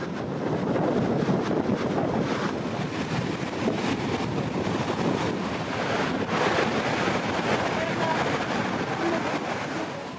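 Ocean surf rolls in continuously at a surf beach in Canggu, Bali, a broad steady wash of breaking waves mixed with gusty wind buffeting the microphone, with no voices.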